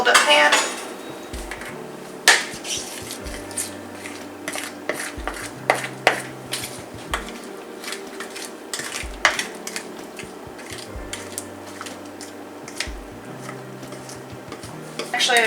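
A fork clinks and scrapes against an oiled pan while ingredients are mixed, with irregular close metallic taps and clatter throughout and occasional low thumps underneath.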